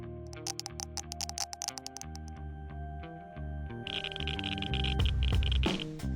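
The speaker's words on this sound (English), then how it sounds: "That is the sound of a Geiger counter," Irregular Geiger counter-like clicking from the Minecraft basalt deltas biome, sounding as crisp ticks that start sparse, then blend into a denser crackling wash over low sustained game music, with no talking.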